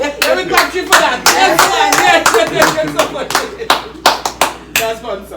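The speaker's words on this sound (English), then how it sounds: "Let me clap you for that." Hands clapping in a steady run of sharp claps, loud and close, during an interview.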